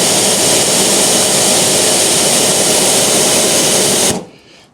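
Pressure washer running at about 110 bar through an AVA 20m extension hose, a steady loud hissing spray with motor drone that cuts off sharply near the end.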